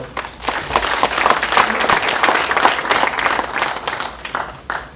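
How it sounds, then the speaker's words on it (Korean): Crowd applause at a memorial event in Incheon, dense and loud clapping from a large gathering that swells quickly and carries on evenly for a few seconds before tapering off. "이분들에서 박수 한번 보내주실래요?"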